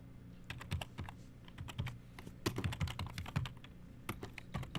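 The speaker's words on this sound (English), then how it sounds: "I'm just typing in the play that was played because I think it was illegal." Rapid, continuous keystrokes on a computer keyboard log a play during a finals match. The sharp clicks come close and steady over a low room hum, with no voices.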